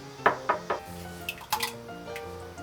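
A bread pudding sauce of egg, cream, milk, yogurt and oligosaccharide syrup being mixed in a bowl: a quick run of three bright clinks, then softer, scattered taps and scrapes of a utensil against the bowl.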